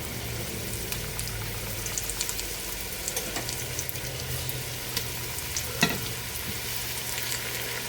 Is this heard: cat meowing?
no